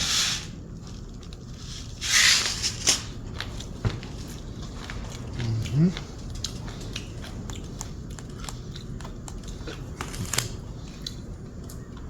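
Montgomery Ward/Evergo spinner ceiling fan gives off irregular crunching and scraping noises over a steady running whir, with occasional louder crunches spread across the stretch.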